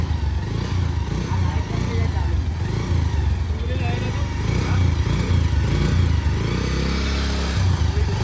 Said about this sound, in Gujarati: તો ભાઈ ફાઇનલી બાઇક ચાલુ થઈ ગયું છે.